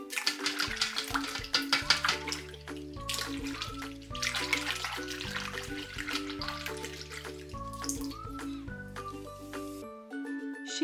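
A toy koala is scrubbed in bath water, giving soft sloshing and splashing under steady, cheerful background music.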